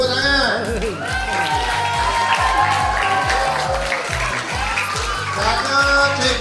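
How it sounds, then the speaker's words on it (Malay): Applause at a national school tooth-brushing program in Malaysia, steady and crowded under loud rhythmic music with a strong bass beat and a voice talking over it. "Terima kasih kepada Cikgu Mazli, tepuk tangan."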